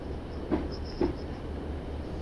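In a train simulator game, a train runs along the rails on the approach to Upper Tyndrum: a steady low rumble with two distinct wheel clacks about half a second apart and a faint high whine.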